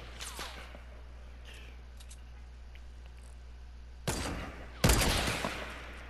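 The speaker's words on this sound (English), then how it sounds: "Bro, this guy keeps shooting this metal wall." In a video game, bursts of gunfire crack against a metal wall, first a faint scattered volley and then two loud, sharp, close bursts near the end over a steady low hum.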